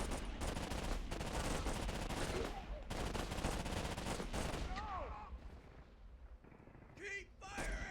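Dense, rapid rifle and machine-gun fire crackles in a World War battle in the video game Warfare 1917/1944, continuous for several seconds before thinning out into scattered shots and whistling shells, with faint voices underneath.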